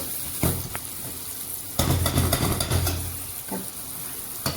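Onions sautéing in a pan for Shahi Patiala chicken, with a close, steady sizzle and a few louder bursts as the spoon stirs and scrapes through them.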